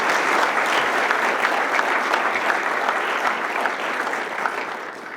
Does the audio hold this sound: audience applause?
yes